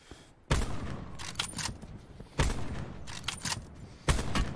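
A Paladin rifle in the Black Ops 4 Blackout video game fires three heavy, booming shots, spaced roughly two seconds apart. Each shot trails off into a rattling echo, and no voices are heard.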